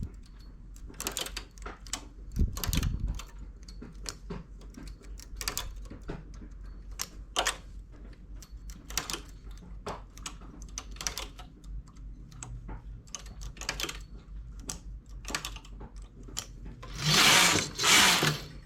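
A knitting machine working a lace stitch from a punch card clatters in repeated mechanical strokes, each pass a rattling sweep, steady and close, with a louder burst near the end.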